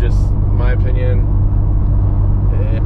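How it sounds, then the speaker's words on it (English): Kia Stinger GT fitted with an MBRP cat-back exhaust, a loud steady low rumble droning close by throughout, with someone talking over it. "Can't beat the MBRP exhaust"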